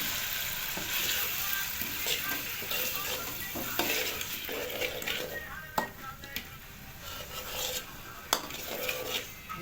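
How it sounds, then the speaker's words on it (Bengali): Egg-potato curry sizzles steadily in a frying pan as a little water goes in, with stirring scrapes and a few sharp utensil clinks against the pot. "হালকা জল দেওয়া হচ্ছে"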